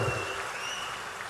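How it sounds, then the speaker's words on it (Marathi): Applause from a crowd at a political gathering in Satara, a brief burst of clapping heard from a distance, fairly faint and steady, with no voices over it. "जोरदार टाळी त्या गुणाले साहेबांसाठी वाजवा"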